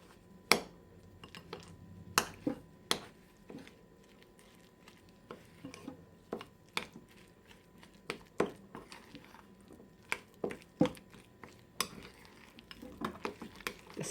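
Garlic and olive oil being stirred together with a utensil for stuffed salmon, giving irregular clicks and taps against the bowl over soft background noise, fairly faint.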